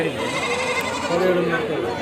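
Goats bleat in wavering cries amid a busy livestock market in Kadiri, with people talking nearby underneath.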